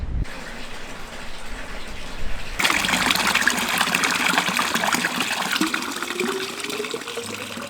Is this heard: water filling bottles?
yes